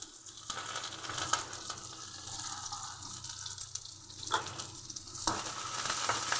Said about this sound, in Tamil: இப்போ கருவேப்பிலை போட போகிறேன்.